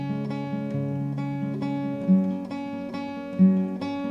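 Acoustic guitar strumming the verse of Prateek Kuhad's song Dil Beparvah, a steady chord pattern with a couple of stronger accented strums, close and alone without voices.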